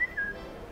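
A brief whistle in the video game Assassin's Creed, Jack the Ripper chapter, two short high tones sliding slightly downward over a steady background hum, fairly faint and heard alone.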